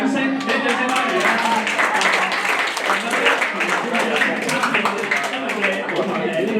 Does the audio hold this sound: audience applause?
yes